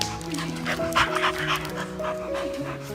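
A dog pants rapidly and steadily up close, the quick breathy rhythm mixed with a few soft whimpering tones.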